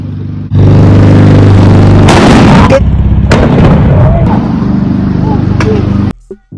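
A plastic water bottle filled with baking soda bursts in a very loud, close blast, followed by clattering debris, rustling and short cracks before the sound cuts off abruptly.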